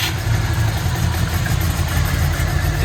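Subaru WRX engine idling after start-up on a temporary battery hookup, fitted with a new exhaust and downpipe; a steady, low rumbling idle runs continuously throughout, fairly loud and near, with no talking.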